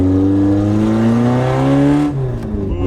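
A Toyota AE86 engine revs up close, its pitch climbing smoothly with strong harmonic whine before the throttle drops off abruptly near the end and the note falls away.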